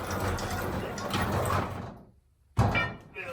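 A counterweighted sliding fire door in the old W.J. Moore House rumbles along its track for about two seconds. After a brief silence it lands with a sharp thud and a rattling clatter, close and loud.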